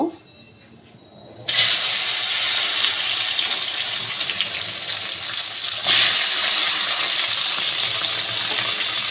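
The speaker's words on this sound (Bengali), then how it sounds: "এবার আমি সবজিগুলোকে সব আস্তে আস্তে ছেড়ে দেব।" Mixed vegetables for Bengali shukto dropped into hot oil over a lowered gas flame burst into a loud, sudden sizzle after a quiet start, holding a steady hiss with a second surge partway through.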